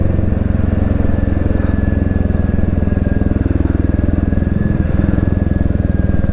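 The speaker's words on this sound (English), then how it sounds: "the burble from that exhaust" A Royal Enfield Classic 350 motorcycle's exhaust burbles loudly and steadily while riding, a continuous close-up throbbing engine rumble with no talk.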